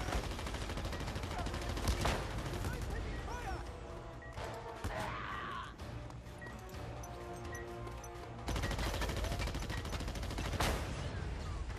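Pistol gunfire in Just Cause 2, bursts of shots and crashing impacts layered over busy game sound, with some talk in places.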